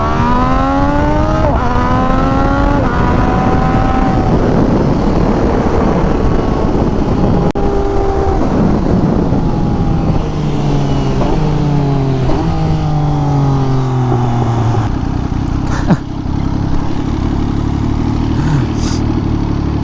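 An MV Agusta Superveloce motorcycle with an SC Project exhaust is ridden hard, its loud, close engine note climbing and dropping through repeated gear changes with no break.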